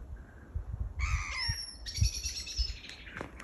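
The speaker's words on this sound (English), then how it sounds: "Only thing you can hear is nature, the roosters, the birds." Outdoor birdsong with chirps and squawking calls rising and falling over steady low background rumble, several birds calling near and mid-distance.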